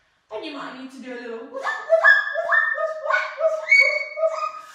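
A person imitates a puppy barking during a children's pilates session, making a quick run of high yapping and whimpering barks up close in a quiet room.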